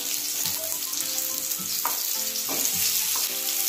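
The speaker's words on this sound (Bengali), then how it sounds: "শুক্তো বানানোর জন্য এবার ছুটিটা ভেজে নেব।" Pieces sizzling and spitting in hot oil in a pan while being fried for shukto, a steady close crackle with light stirring clinks throughout.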